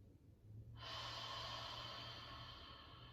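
Ujjayi breathing: a single slow, close, soft inhale through the nostrils with a gentle rushing hiss, sustained for a couple of seconds.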